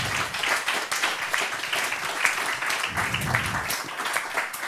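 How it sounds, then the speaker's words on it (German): A room full of people applauds warmly and steadily, dense overlapping hand claps sustained at an even level throughout, with no one speaking over it. "Applaus für Peter Langer."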